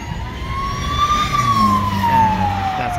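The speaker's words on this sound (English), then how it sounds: "That's a police car." A police car siren wails along a Brussels street, a single rising and falling tone sweeping past over low traffic and engine rumble, loud and fairly close.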